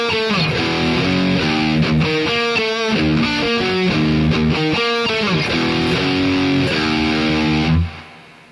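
An electric guitar plays a riff, with distorted picked notes and chords in a steady, loud pattern before it stops abruptly near the end.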